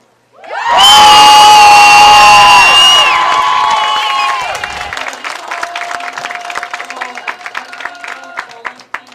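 A crowd at a girls' high school state bowling tournament erupts into loud cheering, screaming and applause that peaks right away and then gradually thins to scattered clapping.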